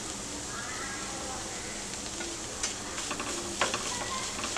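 Onion and mushroom sizzling with butter in a pan, a soft steady fry with a few scraping stirs toward the end, close by while a voice speaks faintly.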